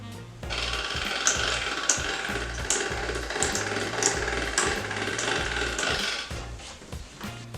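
Floured homemade pasta dough feeds through the rollers of a pasta machine set to its widest setting, giving a close, steady grinding rumble with a repeating low rhythmic thump from the crank throughout.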